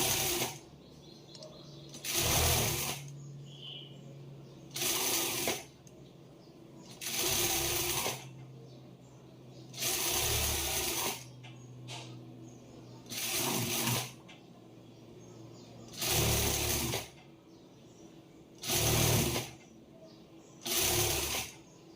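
A sewing machine stitches the back part of a prince-cut blouse in repeated short bursts of rapid mechanical whirring, about nine runs separated by quiet pauses, with faint handling sounds between them.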